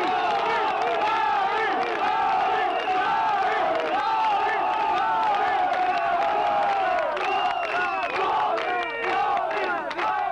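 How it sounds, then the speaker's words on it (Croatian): Toško football fans roar and chant in the stands after their team scores the opening goal, a loud, sustained wall of crowd voices with rising yells and whoops throughout. "velika radost navijača Toška"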